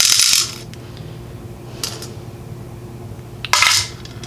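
Small metal pins from a gutted Corbin Russwin mortise lock cylinder dropping and rattling, with two loud close jangling bursts at the start and end and a softer tinkle between.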